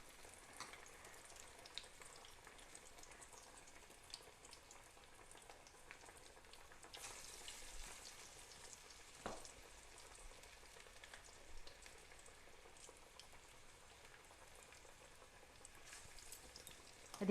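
Mint vadai frying in hot oil, a steady, soft, continuous sizzle and bubbling with a few small crackles, close but quiet, no voices.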